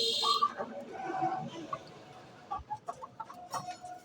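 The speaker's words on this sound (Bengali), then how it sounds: "এই যে একটা পাহাড়ি মুরগি" Hill chickens cluck in short, repeated calls against a busy background, with a voice heard faintly at times.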